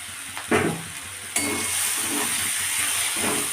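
Mushrooms seasoned with salt, turmeric, sugar and chilli powder sizzle steadily in a pan, with a few scraping stirs at the start and a louder hiss of frying that continues after about 1.4 seconds.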